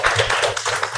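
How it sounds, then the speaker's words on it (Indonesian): Brief bursts of classroom clapping for a young pupil, uneven and close, with scattered claps from a handful of children rather than a full crowd, lasting about a second. "Tepuk tangan buat Afni."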